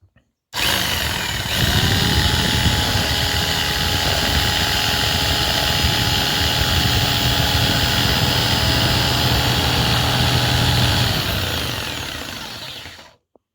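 A power tool cuts steadily through a corrugated Ondulin bitumen roofing sheet, a continuous loud whirring grind lasting over ten seconds with no pauses, close to the listener and alone.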